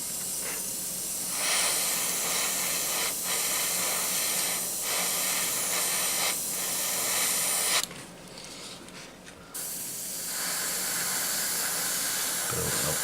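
Yellow paint sprays from an airbrush onto an Eduard Bf 109G-2 scale model, a long continuous close hiss with faint pulsing, briefly cut off and then resuming.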